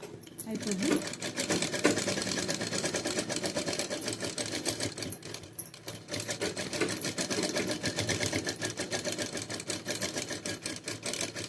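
A sewing machine runs steadily, stitching cloth for a girl's frock, its continuous rattling whir carrying through the whole stretch with someone talking over it.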